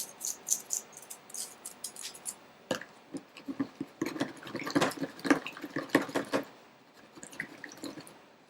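A circuit board being rinsed in distilled water to wash off leftover flux residue, giving close, irregular drips, splashes and trickles that come in bursts, busiest midway through, with no talking.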